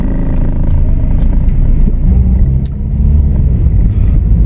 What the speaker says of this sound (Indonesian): mobilnya memang suara mesinnya halus ya, halus banget